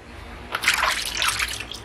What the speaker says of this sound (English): I'm still going to be rinsing this